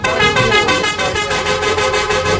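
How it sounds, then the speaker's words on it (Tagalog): A jeepney horn honking in the Roblox video game, a loud, continuous musical tooting horn with a rhythmic, pulsing melody that plays without pause throughout. "Grabe yung busina ng jeepney niya doon."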